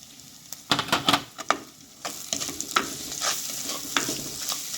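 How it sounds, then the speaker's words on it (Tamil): Onions sautéing with salt in a pan for a spicy breadfruit gravy, stirred repeatedly so that a steady close sizzle is broken by sharp scraping strokes, with no talking. "வெங்காயம் கெட்டியாக வதங்கிடும் பாருங்க"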